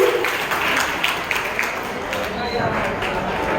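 A school audience applauds the children at a Marathi Language Day celebration put on by students from other states. The clapping is steady, dense and close, a continuous crowd wash with voices mixed in.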